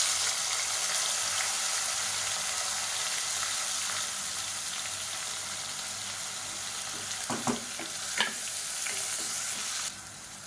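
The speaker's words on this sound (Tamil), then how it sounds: "இப்போ அதில் நீளமாக நறுக்குனா பெரிய வெங்காயம் சேர்த்துக்கலாம்." Long-sliced big onions fry in a pan of hot oil with whole spices such as cardamom for a chicken dish. A steady, dense sizzle runs throughout, with a few brief stirring clacks near the end.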